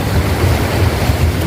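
Flood water on the Krishna river rushes past new bridge pillars in a loud, continuous roar, steady and close with no talk over it.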